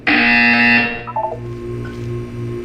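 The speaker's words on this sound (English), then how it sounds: "When you hear the buzzer, look up at the ceiling." A loud, steady electronic buzzer tone from the video game Portal 2 sounds for about a second, followed by a few short, softer beeps over a low background hum.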